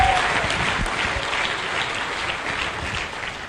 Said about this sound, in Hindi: ताली बजाते रहिए।